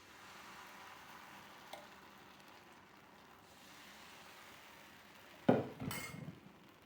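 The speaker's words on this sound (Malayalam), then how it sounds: "ഇനി നമുക്ക് അടുത്ത അപ്പം കോരി വയ്ക്കാം." A metal spatula scrapes a cooked palappam from a pan and sets it on a plate, one faint tap early, then a sharp, close clatter of utensil on pan with a few quick scraping knocks afterward, against a quiet background hiss.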